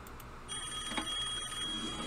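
A telephone rings in the puzzle video game Rooms: The Toymaker's Mansion, a steady electronic tone that starts after a brief pause and holds at moderate loudness over faint background music.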